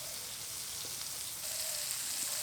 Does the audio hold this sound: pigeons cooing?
no